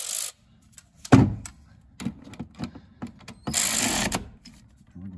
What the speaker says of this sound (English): We're going to go ahead and pop the 13 on the 3/8 ratchet.